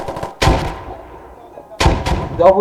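Gunfire in a video game: two heavy, booming shots about a second and a half apart, each with a short, rattling tail, loud and close.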